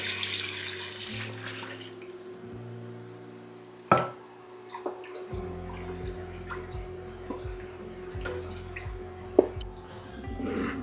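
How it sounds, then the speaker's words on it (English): Water runs from a tap and splashes into a pot, a quiet trickling fill for corned beef with a few small clunks and drips along the way. "I'm just going to add a litre of water"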